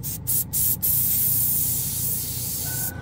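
A steady, close hiss of compressed air blowing from a trigger airbrush, starting with a few brief sputters and then continuing evenly without talk.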